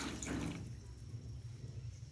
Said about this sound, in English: So we add some water.